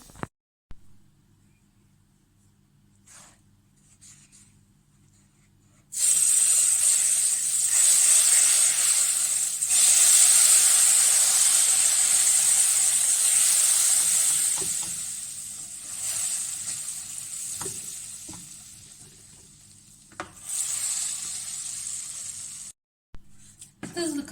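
Oil bubbles and sizzles steadily in a pan, a loud bright crackle that starts abruptly, fades slightly, then stops, with brief clatters near the end.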